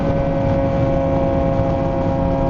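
A 2017 Jitsa 750 motorcycle engine fitted with a Toast full-system exhaust and Toast ECU flash, holding a steady, loud, close drone with no talk over it.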